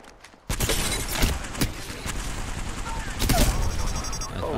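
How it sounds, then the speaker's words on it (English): Enemy gunfire in Apex Legends rattles in dense, continuous bursts of loud shots that layer over each other for several seconds, close and chaotic, with game noise filling the background. "The enemies are shooting at me."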